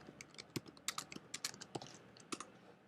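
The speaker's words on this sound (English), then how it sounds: "so I can just type in flights" Keys on a computer keyboard clack in quick irregular runs as a search query is typed, close and crisp against a quiet background.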